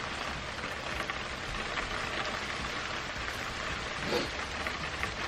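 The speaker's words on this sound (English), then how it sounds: "the rain that we were nervous about in the beginning of our hunt soon began to move in." Steady rain falls on a Michigan hunting ground during firearm deer season, a continuous broadband patter with no break and no voices.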